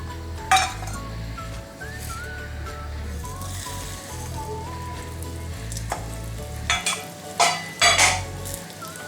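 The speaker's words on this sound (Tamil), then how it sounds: "ஏன்னா இது மூணுமே ஒன்றா நம்ம ஃப்ரை பண்ணணும் லைட்டாக." Cumin, fennel and pepper frying lightly together in a pan for pepper chicken, with a steady low sizzle, metal spoon scrapes and a few sharp clinks against the pan toward the end, close up and without speech.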